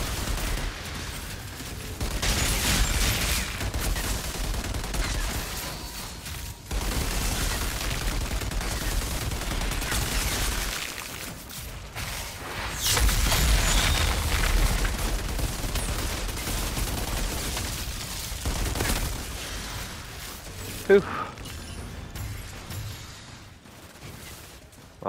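Long stretches of steady gunfire while shooting snipers in the Outriders video game, continuous rattling bursts with brief pauses, a sharp impact near the end, then tapering off, no voices heard.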